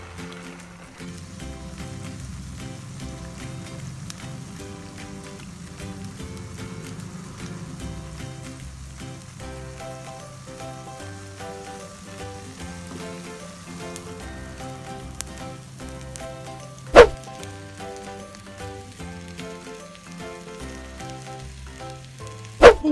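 Spaghetti fritters fry in hot oil with a steady low sizzle and crackle, a couple of sharp clicks near the end, fairly faint and with no talk.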